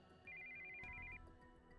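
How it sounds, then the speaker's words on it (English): An incoming-call ringtone from a cell phone in the game Steins;Gate 0: a steady, bright electronic trill lasting about a second amid a soft music bed, loud and clear with no talking. "he heard the sound of an incoming call on his cell phone."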